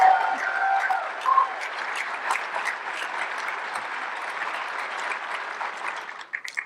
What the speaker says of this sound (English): he really deserves one more round of applause, actually